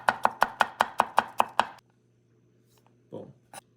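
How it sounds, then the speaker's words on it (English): Garlic cloves are diced with a knife on a cutting board, about eight crisp, evenly spaced chops in a fast steady rhythm, then near silence broken by a short scrape and a faint tap. "Then we're gonna dice up 3 garlic cloves."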